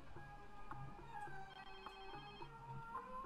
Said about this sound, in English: All right, your phone's ringing.